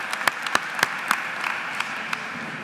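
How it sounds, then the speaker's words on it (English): Applause for graduates at a university School of Education pre-commencement ceremony, a steady wash of crowd clapping with occasional louder close claps punctuating it, fairly soft and even. "Let's give the graduates a big round of applause."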